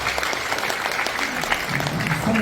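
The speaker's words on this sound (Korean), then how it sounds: "박수 한번 부탁드립니다" Applause from an audience in a National Assembly conference hall during a morning prayer service, steady clapping throughout the short stretch with a faint murmur of crowd beneath.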